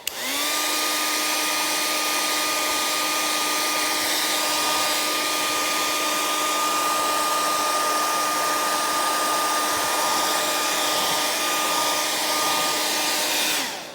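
A hair dryer blows steadily on wet acrylic paint for drying, a loud, continuous whirring roar with a constant motor whine that holds unchanged from start to finish with no voices.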